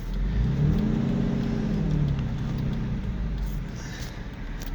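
A car drives and accelerates, its engine humming and rising steadily from inside the cabin, continuous and fairly loud with no talk.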